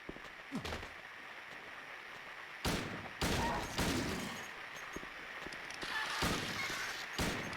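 Gunfire in the survival horror video game Silent Hill 2, with several sharp, loud shots spaced seconds apart over a murky, noisy ambient background.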